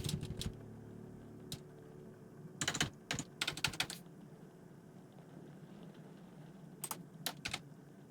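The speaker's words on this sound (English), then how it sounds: "Let's just stop being silly and just type this." Typing on a computer keyboard: scattered bursts of quick, close clicks separated by pauses, over a faint steady background hum.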